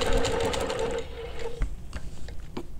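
A longarm quilting machine stitches with rulers along the ends of rows in a Baptist fan pattern, giving a steady fast mechanical whir with a bright tone that drops off partway through.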